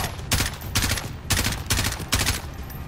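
Bursts of automatic gunfire from a Call of Duty Modern Warfare campaign battle, four or five loud close volleys at a steady rhythm, each lasting a fraction of a second with steady noise between them.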